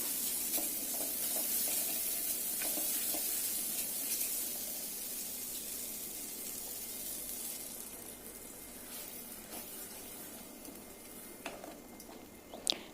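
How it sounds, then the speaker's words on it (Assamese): Spinach, tomato and cashew paste sizzles steadily in a hot pan as it is stirred, with soft scraping and occasional clinks of the spoon, heard alone. "এতিয়া মই ইয়াত দিম পালেং শাকৰ পেষ্টটো, পালেং, বিলাহী আৰু কাজু মিক্সিত মাৰি থোৱা পেষ্টটো"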